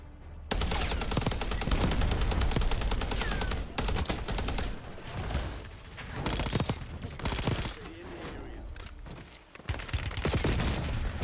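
Gunfire in Warzone on Rebirth Island: sustained automatic bursts, some near and loud and others farther off, with short pauses and rattling echoes breaking up a nearly continuous barrage.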